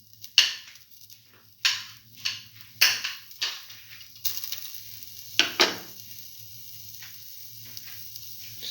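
Garlic frying in a pan for a vegan cucumber black lentil stew: quiet sizzling broken by several sharp bursts of stirring and scraping, with a low steady hum underneath and no talking.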